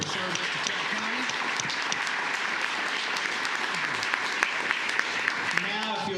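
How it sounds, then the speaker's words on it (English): A room of people at a county commissioners court meeting applauds steadily throughout, dense clapping with voices mixed in underneath. "And for all of you, again, a big round of applause."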